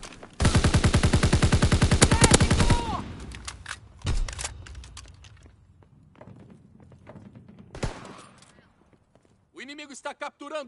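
Rapid automatic gunfire in a PS4 multiplayer shooter, a loud sustained burst followed by scattered single shots and distant impacts, with game voice chatter announcing objectives near the end.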